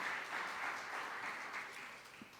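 Congregation applauds during a Sunday church service, a faint, continuous patter of many hands heard from a distance.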